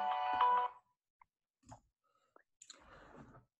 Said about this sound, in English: I thought I had my phone on mute.